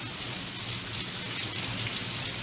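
Rain falls indoors inside a store, a steady, even hiss of dense droplets spattering on surfaces throughout, with no voices.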